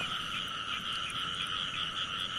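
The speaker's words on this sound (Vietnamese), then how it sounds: "Được, này có ếch cái" Frogs croak in a steady, dense chorus in the night countryside during a frog hunt, a continuous buzzing trill that sounds fairly soft and distant.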